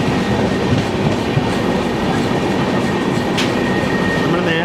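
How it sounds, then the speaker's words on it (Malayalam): The Tirunelveli Bilaspur Express passes at close range behind a diesel locomotive, with loud continuous rumble and rhythmic clickety-clack of wagon wheels over rail joints and a brief high squeal, heard without talk. "തിരുനെൽവേലി ബിലാസ്പൂർ എക്സ്പ്രസ് ആണ്."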